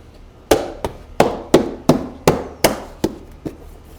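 A series of about nine sharp snaps and clicks of plastic garage storage panels fitting into place, close up, arriving at an uneven pace with brief pauses between them.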